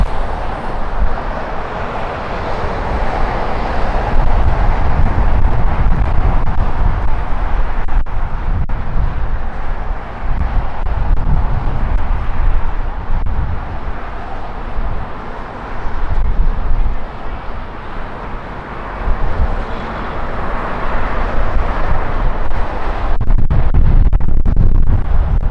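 An El Al airliner taking off at LAX makes a loud, sustained roar that swells and holds for the whole stretch, heavy and rumbling, with wind buffeting and a voice talking faintly underneath.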